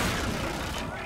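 Dense, continuous gunfire from a Call of Duty: Infinite Warfare firefight rattles without pause, loud and close, with booming low thuds running under the whole brief burst.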